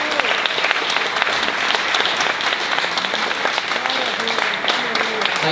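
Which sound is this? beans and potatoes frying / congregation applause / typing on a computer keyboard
congregation applause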